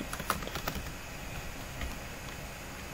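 Faint, quick keystrokes tapped on a computer keyboard while writing code in Roblox Studio, a light irregular clicking over a low background hum.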